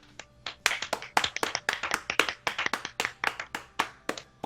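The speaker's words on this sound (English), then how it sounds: "put in the sound of clapping" A small group of people clap their hands in a loose, uneven burst of about a dozen sharp claps over a few seconds, close and fairly loud, with no talking.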